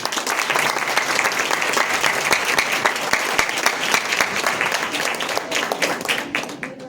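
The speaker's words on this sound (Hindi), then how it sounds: "मैं स्वयं ताली बजाना चाहूंगा, आप उसका समर्थन करें" An audience at a national conference on disability breaks into steady applause honoring a guest, a dense, even patter of many hands clapping for several seconds at moderate volume.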